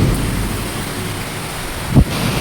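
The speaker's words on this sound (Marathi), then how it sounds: "किती जोरात पाऊस पडतोय." Heavy rain pours in a steady, loud roar with strong wind, and a single low thunder rumble thumps near the end.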